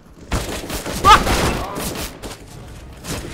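Machine gun fire in the video game Counter-Strike: Global Offensive, rapid repeated shots with a louder spike near the start, running under someone talking throughout.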